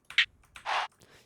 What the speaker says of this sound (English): This is a snare.